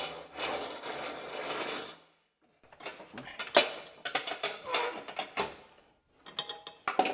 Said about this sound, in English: we're gonna slide the mower deck out, because we have to get this cable off